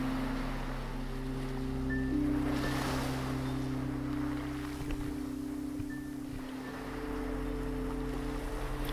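Ocean waves washing onto the shore, a steady broad surge and hiss with soft swells rising and falling under a constant low hum and some wind buffeting, no talking.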